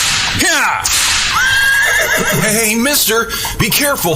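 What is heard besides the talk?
horses neighing, audio drama sound effect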